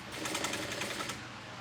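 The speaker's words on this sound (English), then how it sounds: "I'm gonna go a little slow because I do have waterproof canvas on the bottom and it can be a little bit sticky." A sewing machine stitches through waterproof canvas, giving a brief, faint, steady whirring run with a soft rhythmic needle pulse.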